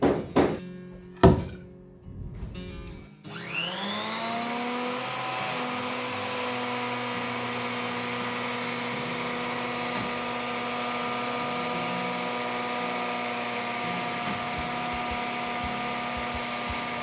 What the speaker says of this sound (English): I'm going to cut the anti-slip groove to 10 centimeters inside, not to the edge, to make it stylish.